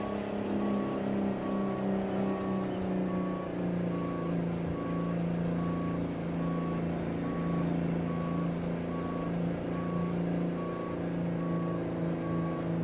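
Steady, evenly spaced reversing beeps from a truck in a trucking video game repeat over a constant low diesel engine drone, with no talk.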